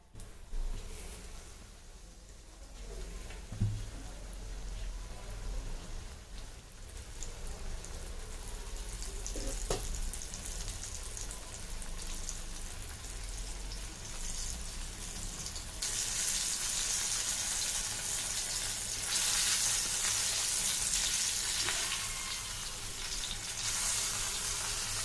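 Pomfret fish coated in semolina and rice flour fries in hot oil, a steady close sizzle and crackle that swells louder and brighter partway through and continues without speech.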